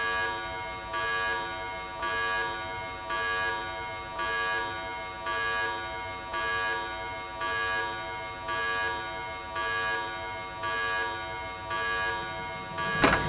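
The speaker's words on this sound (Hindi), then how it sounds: "बजर, एजे का बजर इस वक्त" Door buzzer in a Hindi TV drama sounding in repeated long electronic bursts, about a dozen evenly spaced tones with short gaps, loud and alone with no talking.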